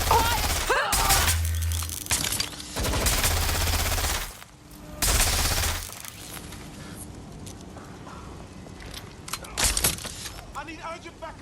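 Automatic gunfire in the Watch Dogs: Legion video game, several loud bursts separated by pauses, with a character shouting amid the shooting and quieter ambience afterward.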